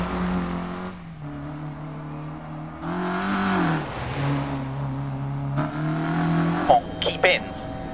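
Peugeot rally car engine in a Dirt 4 video game replay, revving through rising and falling gear pulls with bursts of acceleration, a brief tire squeal near the end, and someone talking over it.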